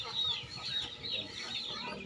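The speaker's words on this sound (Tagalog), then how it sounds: "Pakain na ng mga manok. Ayan, manok at mga pato." Chickens and ducks at afternoon feeding time on a rural farmyard, a steady mass of overlapping clucks and quacks, close and continuous throughout with no talking.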